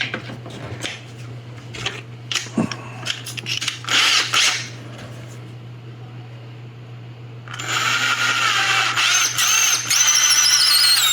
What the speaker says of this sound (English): when I'm drilling into the soft resin